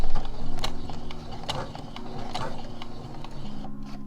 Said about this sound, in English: lay them flat on each other, and then I'm going to sew them together.